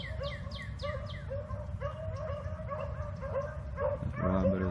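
Several beagles bay and yelp in repeated overlapping howls while running a rabbit outdoors, a steady chorus of hound voices at moderate distance with a louder burst of baying near the end.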